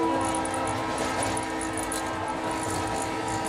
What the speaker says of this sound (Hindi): इस बीच एक शानदार ट्रेन विपरीत दिशा से हमें पार करके जा रही है।